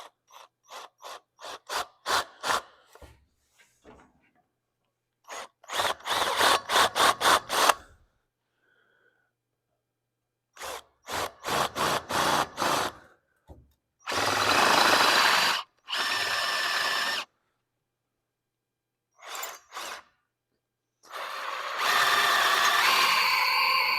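A power drill bores a pilot hole for tapping threads for a 3/8 bolt, short trigger pulses and rattling bursts alternating with longer sustained whirring runs, close and loud, separated by silent pauses.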